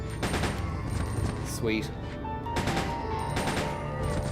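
Gunfire from a gun in the video game Resident Evil rattles in rapid, loud bursts, with a brief spoken remark heard over the shots.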